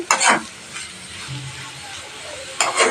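Prawns frying in a pan are scraped and stirred with a spoon over a soft sizzle, followed by the clatter of a lid being set on the pan.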